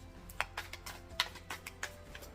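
Tarot cards being shuffled for a love reading, a run of quick soft riffling taps and flicks, close and quiet over a steady low background hum.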